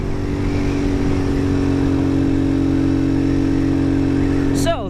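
A Chinese-made Lifan 150cc mini motorcycle engine runs steadily close by, a constant mid-pitched drone with a brief rising rev near the end, while someone speaks over it.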